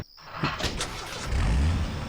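A semi-truck engine rumbles in the video game Full Throttle Remastered, a low, steady drone that swells to a heavier roar near the end, close and loud, with no voices.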